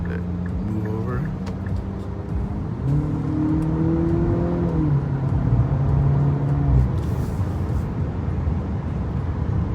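A 2025 Nissan Murano Platinum accelerates through city traffic, its engine note climbing and shifting under steady cabin road noise while someone talks over it.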